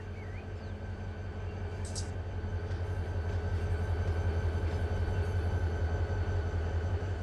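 Diesel locomotive prime movers in Run 8 Train Simulator drone in a steady, loud low rumble with a constant hum that holds throughout, and a brief higher tone sounds near the start.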